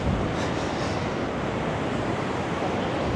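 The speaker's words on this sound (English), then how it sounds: "Yeah, these waves are pretty epic." Rough sea waves crash along Blackpool promenade in high wind, a loud, steady roar of surf and gusting air filling the whole stretch with no voices.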